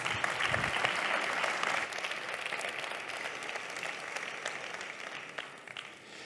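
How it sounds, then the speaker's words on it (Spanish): Audience applause welcomes a speaker at an education talk in León, a full burst of steady clapping that slowly thins and fades toward the end. "un aplauso por favor para recibir a Juan Carlos López"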